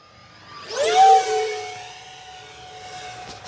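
A small model jet engine, an E-flite Habu SS 50mm ducted-fan jet, whines past overhead, rising to a loud roar and then fading into a steady distant hiss.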